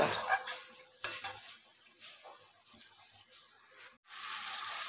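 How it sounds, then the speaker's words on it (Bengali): Masala stir-fried slowly over very low heat for shahi matar paneer: a faint, soft sizzle with occasional utensil knocks against the pan, quiet and close, briefly cutting out before the frying resumes. "এটা আঁচটাকে খুব সিম করে দিয়ে এই মশলাটাকে আস্তে আস্তে আস্তে আস্তে কষাতে হবে"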